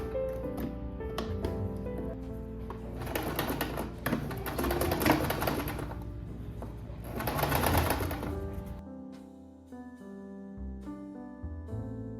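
Up close, a sewing machine runs continuously while stitching the second side of an invisible zipper, its rapid needle clatter swelling in two louder passes before easing into a quieter, steady motor hum.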